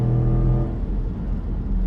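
Dodge Charger Scat Pack accelerating onto a highway, a steady loud engine drone with a low tone that shifts slightly as it pulls, heard from inside the car without talk.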